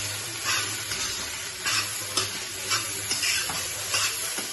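Noodles with masala and salt fry in a pan while a spatula stirs them. A steady sizzle runs under regular scraping strokes, close and moderately loud.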